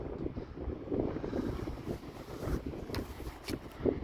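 A boat pushes through thin ice on open water in mid-March flood preparations, giving a steady rough wash of churning water and wind with a few sharp cracking knocks near the end.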